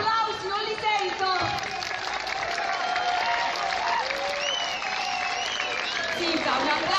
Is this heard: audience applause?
yes